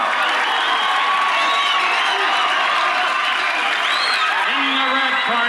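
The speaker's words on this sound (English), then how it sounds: "The crowd anticipating a great fight now as Apollo is in the ring." Boxing crowd in the Rocky IV arena cheering and applauding as Apollo Creed enters the ring, a dense, loud, continuous roar with scattered whoops and shouts throughout.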